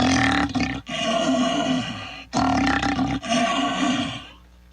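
A person imitates a lion's roar through an empty paper towel roll, mixing a snort and a hiss into three long, loud, rumbling roars separated by short breaths, with the last one fading out.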